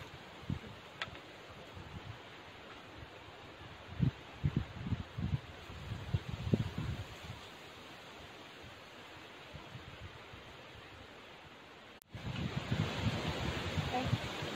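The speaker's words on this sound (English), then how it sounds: "So windy here, guys." Wind gusts outdoors in a garden where seed trays are being watered, a broad rushing roar buffeting the microphone; it comes in bursts and then rises to a louder, steadier blast near the end.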